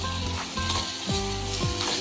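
Onions and dried prawns frying in a pan for a Telangana-style curry, a loud, continuous close sizzle with occasional scraping stirs.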